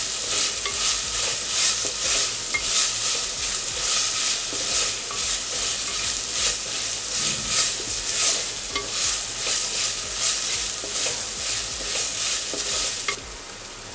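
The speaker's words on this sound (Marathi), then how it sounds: "आला लसूण पेस्ट चांगली परतून घेऊया आपण।" Ginger garlic paste sautés in a pan: a steady bright sizzle with rhythmic scraping as it is stirred, close and fairly loud, with no voices.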